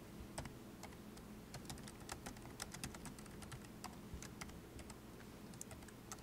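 Quiet, steady typing on a computer keyboard while writing Python code, a brisk run of light clicking keystrokes close to the microphone with no talking.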